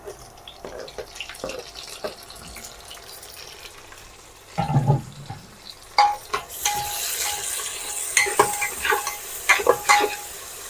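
Tomatoes being sautéed with browned onion in a pan for a Maharashtrian masale bhat, with a soft sizzle and scraping stirring strokes that grow busier and louder in the second half.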